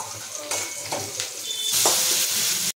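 Food sizzling and frying in a pan at home before tomato goes in, crackling steadily with scraping stir strokes of a spatula, growing louder toward the end before cutting off abruptly.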